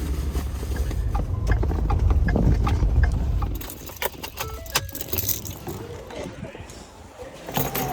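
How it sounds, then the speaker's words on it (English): A set of keys jangles and clinks loudly up close, followed by scattered lighter metallic jingles and handling clicks, with a low rumbling background early on. "Here's my keys."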